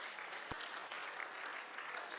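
An audience at a Kenyan public event applauds a committee, giving a dense, faint burst of many hands clapping with one sharp knock near the start.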